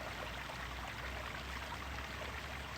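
Water flows steadily in a soft, continuous rush, like a small stream, heard alone at a moderate distance.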